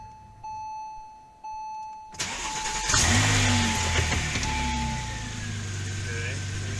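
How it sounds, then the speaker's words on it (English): Porsche 996 Turbo cold start with misfires on cylinders 3 and 6: after a few chimes, the starter catches and the engine bursts into a loud, steady, rough idle close by. "The engine's cold right now, so let me start the engine."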